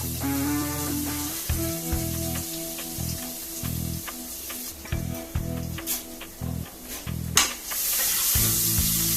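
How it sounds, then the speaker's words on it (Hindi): Crushed garlic and ginger fry with bay leaves in hot oil, a steady close sizzle with intermittent stirring scrapes of the pan, preparing a base for cooking mud crab. "हल्का सा इसको फ्राई करके लेते हैं"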